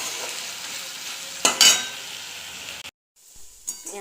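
Chopped onions frying in a pan for a Bengali chicken and potato curry, a steady soft sizzle with a brief louder burst of stirring and clinks, then a short pause before the sizzling resumes.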